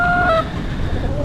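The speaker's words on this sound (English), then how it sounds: "Listen, chicken." Chickens in a homestead flock of Rhode Island Reds cluck nearby, with one bird giving brief high calls before a steady low clucking and murmur continues.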